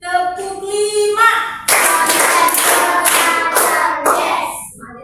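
A primary school class in Medan doing a clapping game, many hands clapping together in quick bursts that follow a teacher's sung or spoken cue, loud and close, with the cue voice heard before the claps.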